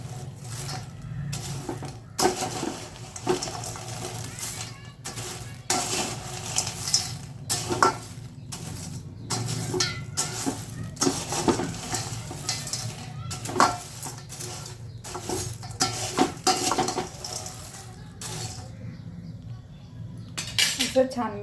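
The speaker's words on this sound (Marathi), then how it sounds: "हे सुद्धा छान असं मिक्स करून घेऊया," A corn chivda mixture is stirred and tossed in a pan, with repeated clattering scrapes and clinks of a spoon against the metal, irregular and moderately close, with a person talking at times.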